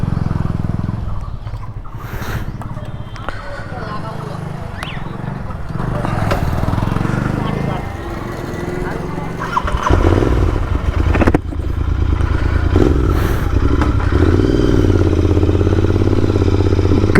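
Motorcycle on a test ride, its steady engine drone loud and close throughout, with clattering and scraping on top and a brief louder burst mid-way; a voice speaks over it at times.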